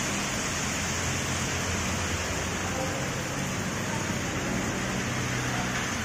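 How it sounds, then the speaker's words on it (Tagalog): Heavy rain drumming steadily on a car on a drive through Buendia, a dense, continuous hiss filling the whole stretch at even loudness, with no voices. "Inabot kami ng malakas na ulan."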